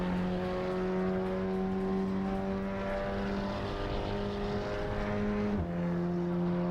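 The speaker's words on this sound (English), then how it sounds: "when you downshift and you hear the engine, the RPMs go up. And it hits like a limiter" A racing car engine drones at high revs in Assetto Corsa Evo, holding a steady buzzing pitch that steps down sharply near the end, loud and continuous with no talking.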